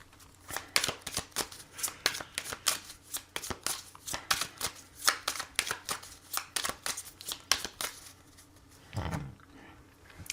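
Tarot cards shuffled in a steady run of crisp riffling flicks, close and moderately loud, ending in a brief soft thud.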